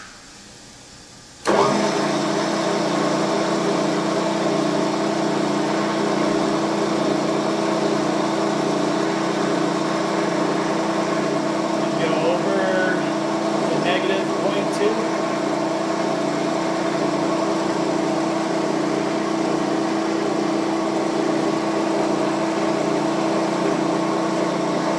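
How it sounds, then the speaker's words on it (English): A machine drills both holes with a stubby spot drill: a motor kicks on abruptly and then holds a steady, loud mechanical drone with a high whine throughout, no voices. "So we're going to start off with the spot drill. We're going to drill both holes."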